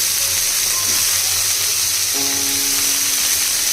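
Eggplant pieces frying lightly in a little oil in a wok give a loud, steady hiss and sizzle throughout, with a faint clink partway through.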